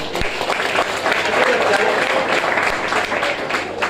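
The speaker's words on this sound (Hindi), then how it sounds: "जोरदार ताली आप लोग के नॉलेज के लिए" An indoor audience at a product information talk applauds loudly and steadily, a thick wash of clapping that carries on without pause, with some voices mixed in.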